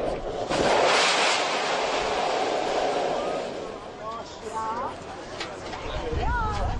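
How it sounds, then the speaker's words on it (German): Water poured onto a hot volcanic vent at a restaurant in Lanzarote's Fire Mountains bursts into a roaring steam fountain, a loud rushing hiss that fades as voices and chatter rise over it. "Das Höllenfeuer erwärmt das Wasser in Sekundenbruchteilen zur tosenden Dampffontäne."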